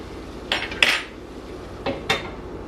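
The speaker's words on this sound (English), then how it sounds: "I gotta stir my food" Food is stirred in a cooking pot, with a handful of sharp metallic clanks and scrapes of a utensil against the pot over a low background, close and alone.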